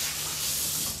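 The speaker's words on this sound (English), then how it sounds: "You can hear the chorizo sizzling in the background" Cacique chorizo browning in a hot pan gives a steady, close sizzling hiss with no talk over it.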